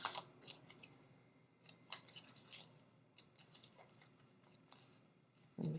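Scissors snip repeatedly through paper scraps while making crafted paper flowers, a close, quiet series of crisp irregular cuts with short pauses between them.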